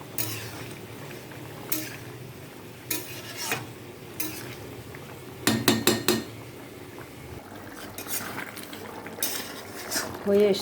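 Apple and chicken being stirred and sautéed in a pan, with a utensil scraping and clinking against the metal in irregular bursts over a soft sizzle, close and fairly quiet.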